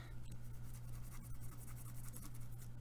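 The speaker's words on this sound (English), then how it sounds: "take your Sharpie, start coloring your aluminum foil" A Sharpie marker colours gently across aluminum foil in a craft session, giving a faint, continuous rubbing and scratching with small irregular strokes over a low steady hum.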